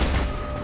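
An incoming mortar round explodes in a Call of Duty Black Ops battle, a short, heavy, rumbling blast that lingers briefly.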